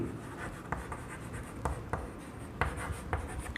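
Chalk or marker writing on a board in a maths class, a continuous scratchy scrape broken by sharp taps as strokes start, steady and close with no talk over it.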